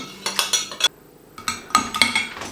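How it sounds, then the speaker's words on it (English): A utensil presses squashed roasted vegetables through a fine metal sieve into a saucepan, making repeated close scraping and clinking strokes with a short pause partway through. "press it through a fine sieve into a saucepan"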